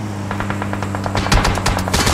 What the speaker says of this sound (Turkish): Sen benim arabaya mı sıktın?